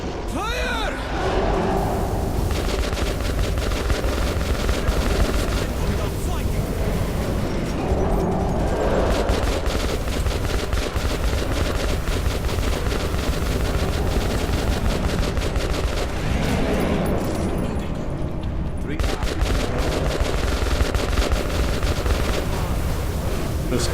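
Sustained gunfire in Metro 2033 Redux during a Nosalis attack, dense rapid shots running nearly continuously and loud throughout, mixed with game noise and occasional voices.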